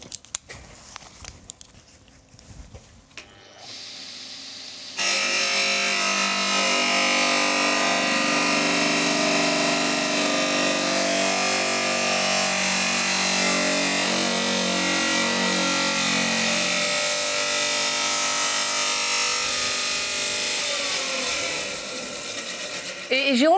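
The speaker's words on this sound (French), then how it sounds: "Jérôme va maintenant réaliser une découpe sur une dalle extérieure de 2 cm." Norton Clipper saw fitted with an Extrême Grès Silencio disc, cutting a 2 cm outdoor stone slab. A few faint knocks come first, then a loud, steady grinding whine starts and runs without a break for the rest of the clip.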